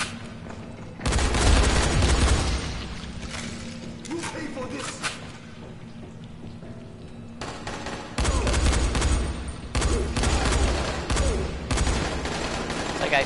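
Rapid bursts of gunfire in the zombie game Dying Light, loud clustered volleys that start and stop in bunches, with some talk mixed in.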